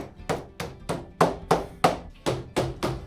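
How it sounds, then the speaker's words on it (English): Nine sharp hammer taps in a steady rhythm, each a crisp knock with a quick decay, close by and fairly loud, as weather stripping is tapped onto a Massey Ferguson GC2300 tractor cab door frame. "you tap that with the hammer, it goes right back on"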